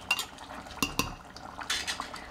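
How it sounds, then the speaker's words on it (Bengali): Pressure cooker lid coming off during mutton curry cooking, with sharp metallic clinks and clatters of pots and utensils, a few distinct knocks close by with no talking. "আমি এবার এই ঢাকনা খুলে 10 মিনিট আবার খোলা অবস্থায় ফোটাবো"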